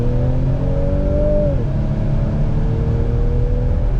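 Car engine pulling through its exhaust, a steady droning hum that rises in pitch then drops as the gear changes, heard from inside the moving car with no talking.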